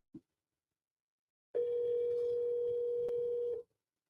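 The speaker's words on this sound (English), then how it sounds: "Got 7 dial tones going." A single steady telephone dial tone from a phone line in a wholesaling call session, preceded by a tiny click, holds for about two seconds, then stops abruptly.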